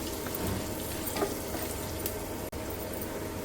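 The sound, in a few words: taro frying in a pan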